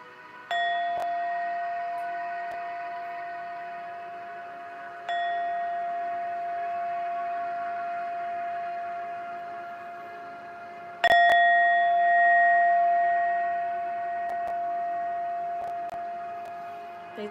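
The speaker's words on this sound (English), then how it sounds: "I invite us to chant Om after I ring the bell 3 times" A meditation bell is struck three times at spaced intervals, each ring clear and bright and then slowly decaying into a long shimmering tone in an otherwise quiet room.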